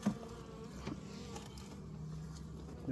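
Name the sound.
honey bees buzzing at a beehive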